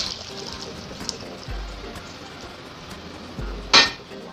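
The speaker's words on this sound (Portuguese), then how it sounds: "Então eu vou escorrer essa água." Water drains from a pan of sliced pears in a kitchen, a steady soft wash under light clanks of the pan, ending in a sharper metallic knock.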